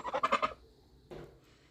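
Geese honk in a quick burst of several loud calls, then one more honk after a short pause, close by on a farm with sheep.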